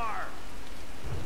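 Rain pours steadily in Tomb Raider, a close, constant hiss of falling water with a faint low rumble and a brief tonal swell at the start.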